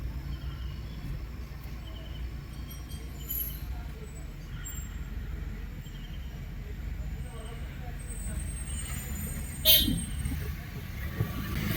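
A newly bought car pulls away and drives along a road, with a steady low engine and tyre rumble throughout, a brief louder knock near the end, and muffled voices in the background.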